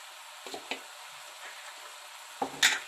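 Turmeric and salt being stirred into bottle gourd milk curry in a pan, a few soft scraping strokes with faint sizzling, brief clinks near the end against a quiet background.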